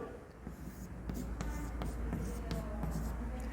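Chemical structures of butane being written out by hand, a soft, steady scratching with small taps and strokes over a low background hum, close and continuous, with no talking.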